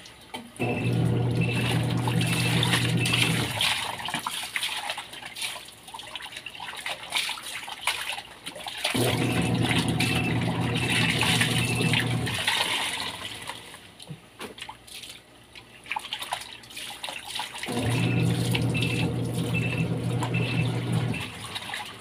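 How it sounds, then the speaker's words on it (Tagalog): Water runs from a tap in repeated gushing stretches, loud splashing flow cutting in and out roughly every nine seconds with quieter running in between. "Continuous po yan ang tubig natin"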